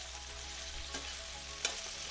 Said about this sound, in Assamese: এতিয়া মই এইখিনি সময়তে দি দিম কাটি ৰখা যিখিনি বন্ধাকবি আৰু আলু আছে এইখিনি মই ইয়াতে দি দিছোঁ আৰু এতিয়া মই এইখিনি ভালদৰে মিক্স কৰি ল'ব লাগিব